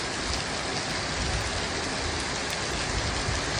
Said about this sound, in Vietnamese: Khu dân cư chợ Láng Sen ngập luôn, mưa quá mưa